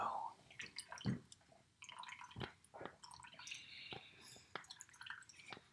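Sparse, quiet drips and small liquid trickles of Pepsi falling from a can, irregular and close, with faint handling noise around them.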